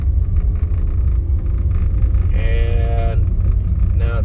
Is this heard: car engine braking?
yes